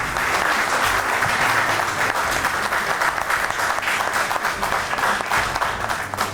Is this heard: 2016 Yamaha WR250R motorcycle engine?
no